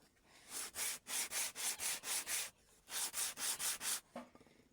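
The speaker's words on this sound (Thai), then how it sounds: "ก็จะขัดไปเรื่อยจนมันได้จึงจะนำมาติดเข้ากับ" A wooden internal brace for a guitar back is sanded to a curve, producing two runs of about six brisk, evenly spaced rasping strokes, each with a short pause between runs.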